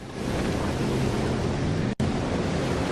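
Heavy ocean swell surges against the boat Endurance at sea, a dense, continuous roar of waves and wind, loud and close, with a brief cut near the middle.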